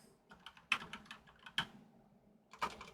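Quiet typing on a computer keyboard, a few soft scattered keystrokes with three sharper clicks standing out, close and faint with no talking.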